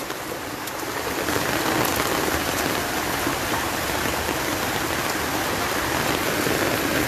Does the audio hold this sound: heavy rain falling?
yes